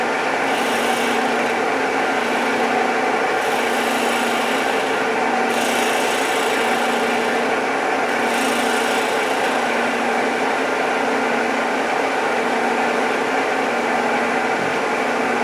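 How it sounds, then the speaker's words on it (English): A drill bores a hole in a turned wooden mushroom birdhouse for an eye screw, giving a steady whirring, rasping grind that runs continuously and close up with no talking. "we got to drill the hole for the eye screw"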